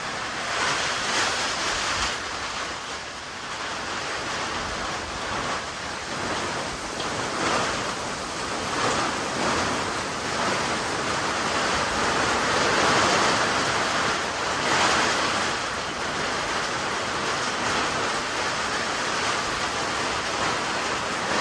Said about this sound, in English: It's blowing into these windows.